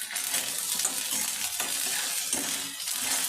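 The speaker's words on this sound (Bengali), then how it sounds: "মশলাটাকেও একটু হালকা করে ভেজে নেব।" Ginger, garlic, coriander, cumin and black pepper paste frying with browned onion for goat brain bhuna, giving a steady loud sizzle with scraping stirs throughout, no talk.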